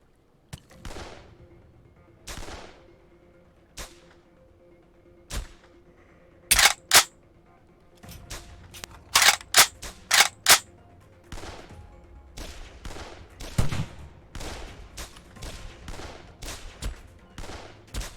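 Gunfire in a virtual reality shooting game: sharp, separate shots ring out, some single and some in quick clusters, with a few loud close volleys against a quiet background.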